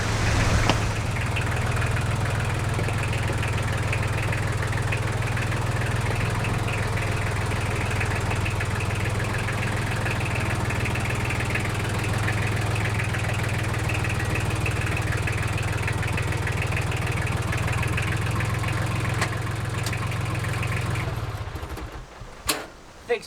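A farm tractor engine runs at a steady idle close by for about twenty seconds, a low, even chugging throb with faint rattling vibration, then cuts off near the end.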